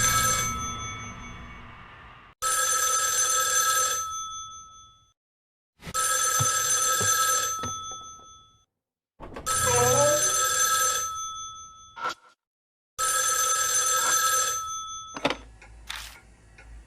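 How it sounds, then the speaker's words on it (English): An old-style telephone bell rings in the horror game Spirit Hunter NG, sounding in four or five loud, even bursts separated by short silences, with a few brief clicks and tones between rings. "Are we supposed to answer the phone?"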